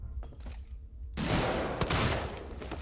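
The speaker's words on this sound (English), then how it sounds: "That was more than 6 shots in the 6-cylinder gun." Revolver gunshots in a video game, a few faint isolated reports followed by a sudden loud, sustained volley of dense firing with sharp cracks standing out, no talk.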